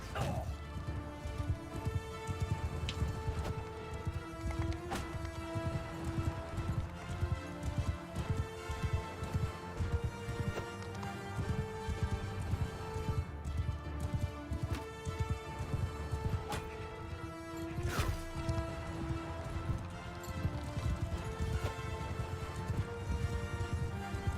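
Horse hooves clip-clopping at a steady run in the video game Mount & Blade II: Bannerlord, with continuous dense battle sound and music around them and no talk.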